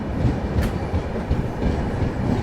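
The 12016 Ajmer–New Delhi Shatabdi Express pulling out of Alwar Junction in Rajasthan, heard from on board as a loud, continuous rumble with rhythmic clickety-clack of wheels on rail joints and a brief high squeal.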